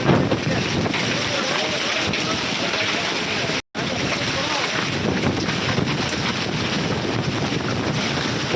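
Heavy hail pelting down outdoors in a hard, relentless broadband roar that runs steadily throughout, loud and close, with a buffeting wind-like wash and one sudden brief dropout partway through.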